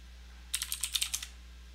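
Quick burst of keystrokes on a computer keyboard as a Linux command is entered during a server setup, about ten crisp clicks in a rapid run lasting under a second, heard close and alone in a quiet room.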